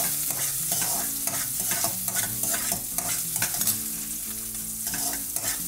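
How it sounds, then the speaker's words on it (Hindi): Garlic cloves frying in hot oil in a home kitchen while bhindi masala is prepared, giving a continuous bright sizzle with repeated stirring scrapes over a steady tonal background hum. "जो गार्लिक के क्लोव्स है उन उसको थोड़ा सा मैं फ्राई कर लूँगी"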